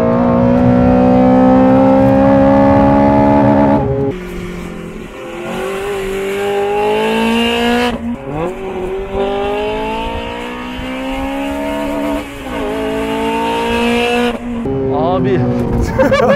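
A Honda Civic Type R on a race track revs hard, its engine note climbing through several gear changes with audible dips at each shift, loud and close.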